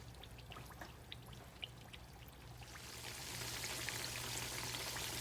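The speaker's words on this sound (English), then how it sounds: "you're going to want to let them fry on the first side for about 7 to 8 minutes" Chicken pieces deep in plenty of hot oil, frying with a steady close hiss and crackle that swells louder and brighter partway through, with faint low hum beneath and no talk.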